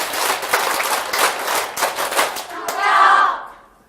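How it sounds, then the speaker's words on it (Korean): A seminar crowd performs the rhythmic World Cup clapping pattern in grouped bursts of sharp claps, ending in a loud collective shout. "자, 월드컵 박수 알죠?"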